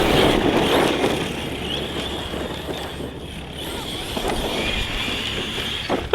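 Team Corally Kronos XTR RC car on a 6S battery with a Hobbywing Max8 combo, its motor whining in a steady high buzz as it drives, with some rumble of tyres on the ground.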